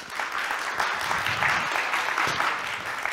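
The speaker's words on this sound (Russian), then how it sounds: "Я хочу еще одни аплодисменты." An audience at a psychology talk breaks into sustained applause, a dense wash of clapping from many people that holds steady for a few seconds.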